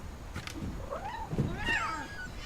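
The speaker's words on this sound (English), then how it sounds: "There goes a cat." A cat meows in the video game What Remains of Edith Finch, with one or two drawn-out, rising-and-falling calls in the middle over a steady ambient game background.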